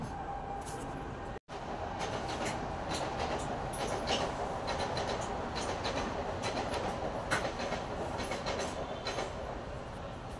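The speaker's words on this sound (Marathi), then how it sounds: "मस्त ट्रेन पण येऊन गेली आता" A train rolls past on rail tracks outside a window in the morning, a steady loud rumble of wheels with faint clickety-clack carrying through the whole stretch, with no talking over it.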